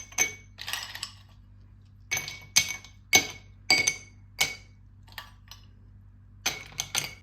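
Ice cubes dropped into a glass over mint leaves for a mango summer drink, a series of bright clinks in clusters with short quiet gaps between them, close and alone.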